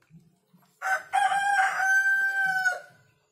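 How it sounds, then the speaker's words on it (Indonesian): A free-roaming chicken near a house crows one long, loud cock-a-doodle-doo close by, with soft clucks from other fowl just before and after. "di rumah saya itu masih banyak ayam berkeliaran secara liar ini"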